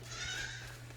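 Goats bleat faintly at a farm gate during a cold snap, with soft, distant cries over a low steady hum and no talking.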